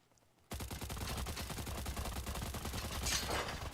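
An SA-58 rifle emptying a 30-round magazine in the shooter game Stalcraft: a fast, steady stream of close, loud shots that starts abruptly after a brief quiet and runs continuously to the end, with no talking.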